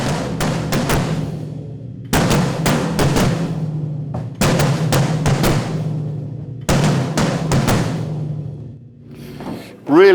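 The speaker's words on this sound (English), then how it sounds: "for the signature rhythm, I use the bass drum, this one right here, and these toms right here." Bass drum and toms pound out the heavy, thick Terminator signature rhythm in a studio, a close, loud pattern of booming hits in repeated phrases separated by short gaps, with no talking.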